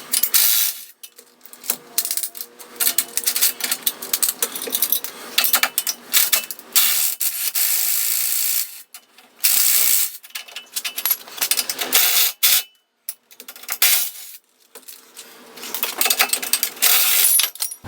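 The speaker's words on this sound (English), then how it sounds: "we're just going to remove the 4 bolts here with an impact driver, impact wrench, and we'll get the old one off" An impact wrench takes four bolts off a jet ski trailer's jockey wheel, rattling in loud, harsh bursts of hammering separated by short pauses. The bursts repeat several times up close.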